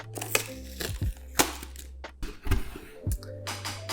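A Logitech Z333 speaker box is unpacked, with crinkling plastic, tearing cardboard and sharp clicks and rustles coming in quick, irregular bursts close by.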